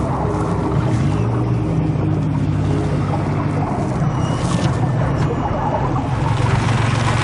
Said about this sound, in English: John, should we fire up the engines and then do a little bit of trawling?